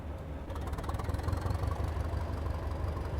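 Low, steady diesel rumble of a British Rail Class 205 'Thumper' DEMU in Train Simulator Classic on the Brighton Main Line, idling and throbbing evenly throughout with no voices present.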